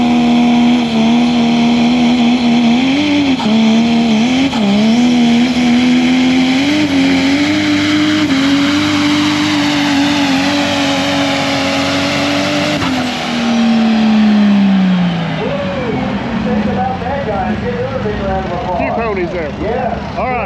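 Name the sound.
open four-wheel-drive diesel trucks racing on track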